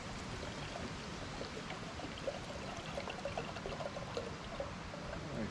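Water pours steadily into a cooking pot for fettuccine noodles at a campsite beside a truck, a soft continuous splashing stream, faint and close.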